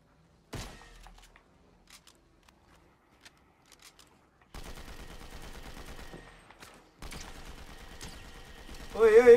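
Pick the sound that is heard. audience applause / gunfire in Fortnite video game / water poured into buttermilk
gunfire in Fortnite video game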